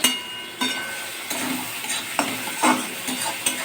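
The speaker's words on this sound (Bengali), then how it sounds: "পেঁয়াজটাকে ভাজছি" Onions fry in mustard oil for a spicy home-style fish dish, sizzling close by as a spatula scrapes the pan in repeated strokes roughly every second, with no talking.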